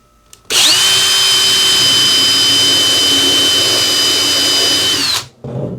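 A power drill bores through the flange of a MAAX Begonia shower base in a basement, one continuous high whining run lasting about five seconds, loud and close, with a brief spin-down at the end and no talking.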